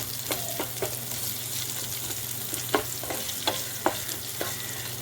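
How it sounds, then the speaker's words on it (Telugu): Onions frying in a pan for thotakura pachadi give a steady, moderate sizzle, with scattered sharp clicks and scrapes from stirring breaking through at irregular intervals. "ఉల్లిపాయలు బాగా వేగాలి ఇందులో."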